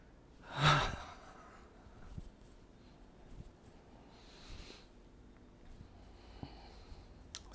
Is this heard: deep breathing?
yes